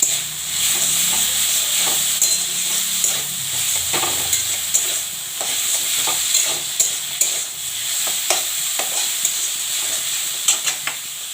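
Fenugreek (methi) greens with eggplant frying and being stirred in a pan, giving a steady high hiss and sizzle with scattered clicks of the spatula, close and continuous throughout.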